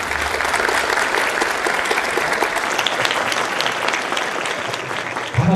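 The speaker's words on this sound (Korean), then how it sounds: "박수로 맞아주시죠" An audience claps steadily to welcome a lecturer, MagnaChip Semiconductor chairman Park Sang-ho, arriving for a special CEO lecture for university students. The dense, even applause fills the hall until a voice cuts in at the very end.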